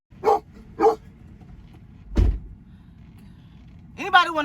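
A pit bull barks twice in short, close, loud bursts, with a thump partway through and a brief vocal sound near the end.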